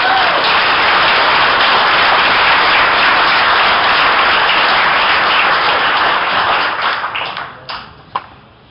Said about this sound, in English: Let's give another round of applause to Johnny Archer, Earl Strickland